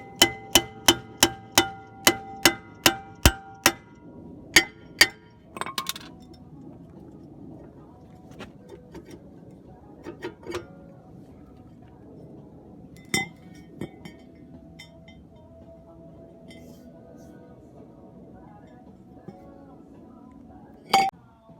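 Metal hammer blows on a Suzuki Jimny brake drum to knock it loose, a quick run of about a dozen sharp ringing clanks, then scattered single strikes with long quiet gaps, close up in a workshop.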